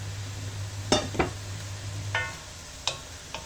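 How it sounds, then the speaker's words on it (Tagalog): Sponge gourd (patola) stirred in a cooking pot for soup: a few sharp spoon clinks and scrapes against the pot, spaced apart, over a soft background hum, with no talking. "Halu-haluin lang natin ng konti."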